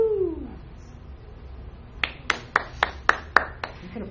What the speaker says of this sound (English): that was like a golf clap